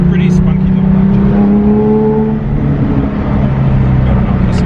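A Sharkwerks-built Porsche 911 with a 4.1-litre engine revs hard from inside the cabin, a loud, continuous engine drone rising and shifting in pitch over a few seconds, with a voice briefly talking over it.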